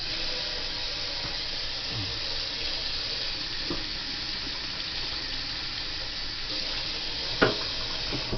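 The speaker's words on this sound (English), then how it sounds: "I ran water over the top because usually the top can be dirty" Water runs steadily from a kitchen tap over the top of a food can, a continuous soft hiss with a few light clinks and taps, close and moderately quiet.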